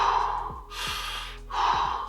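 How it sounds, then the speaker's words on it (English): Deep breathing rounds of the Wim Hof Method: a few strong, noisy breaths drawn in and pushed out in steady succession, close and fairly loud, with no talking. "The first component is the breathing, which is 30 inhales,"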